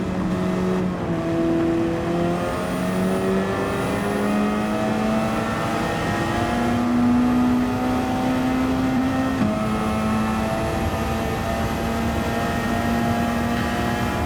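Open-topped race car at the Sarthe circuit, capable of over 280 miles an hour, its engine droning loud and continuous as it climbs through gears, pitch rising and dropping across the whole stretch.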